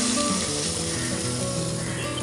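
Pointed gourd and pumpkin curry cooking in a pan, a dense, steady close sizzle with faint stirring, brief and continuous with no talk.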